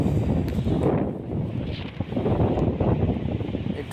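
Strong sea wind at Mandarmani beach buffets the microphone in a steady, loud roar with gusty rustling and no voices.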